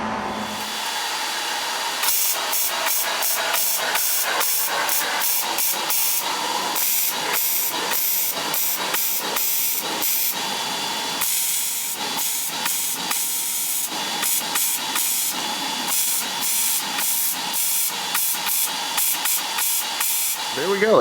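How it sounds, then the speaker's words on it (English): Steel squares being fully welded onto a custom C10 rear bumper: loud, crackling, hissing bursts of welding repeating in a stuttering rhythm with short gaps between passes. "I've got all 8 little squares tack welded in place, so now we'll just burn them in"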